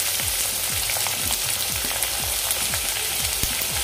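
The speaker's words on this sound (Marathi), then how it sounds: "आता 2 मोठे कांदे चिरून घेतलेले घालून घेतो मी कढईमध्ये।" Chopped onions sizzle loudly in hot oil in a kadhai while a spatula scrapes and stirs them in a steady rhythm of repeated strokes, close and continuous with no talking.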